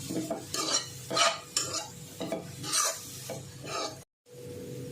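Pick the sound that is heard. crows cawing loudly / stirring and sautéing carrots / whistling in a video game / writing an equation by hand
stirring and sautéing carrots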